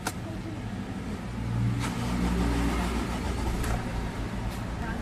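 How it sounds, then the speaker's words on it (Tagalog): A Ford Everest diesel engine with an injector leak starts up: a brief crank gives way to a steady idle that grows louder and keeps running evenly, with a couple of faint clicks. "pasok ulit ako dito sa sasakyan ni customer para pa-start ko na itong makina niya"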